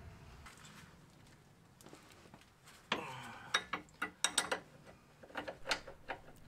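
Ratchet loosening the nut on a Peugeot 407 front stabilizer bar link, giving a run of quick metallic clicks and clanks that grow louder partway through, close and alone with no talk.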